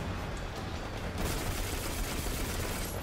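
Rapid gunfire from shooting enemies in the first-person shooter Destiny 2, a dense, continuous burst of shots and impacts that swells louder partway through, with no talking over it.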